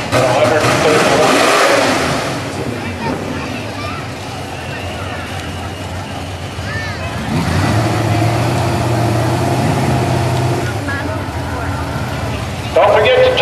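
A Mustang drag racing car roars off down the strip, loud engine revs swelling and fading, with crowd babble and a public-address voice talking over the noise at a drag strip.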